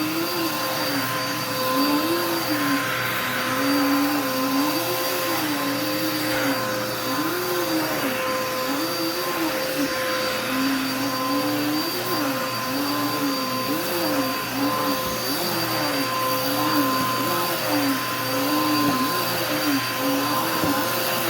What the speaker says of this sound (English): Vacuum a little bit of my room.